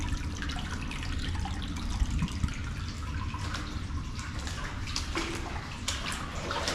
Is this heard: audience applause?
no